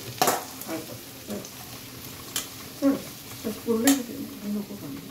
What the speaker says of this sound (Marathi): हे जे कांदा लसूण 1 मिनिट असं सॉटे करायला लागतं, ब्राउनिंग करायला.